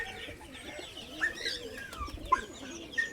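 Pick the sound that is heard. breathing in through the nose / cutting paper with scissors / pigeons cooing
pigeons cooing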